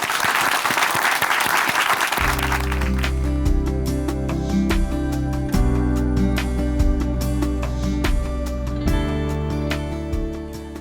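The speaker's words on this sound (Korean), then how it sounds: "박수로 모시겠습니다" Applause from the audience at Chuncheon Hanmaum Church welcomes a speaker to the stage. A burst of full, dense clapping lasts about two seconds, then sustained music takes over.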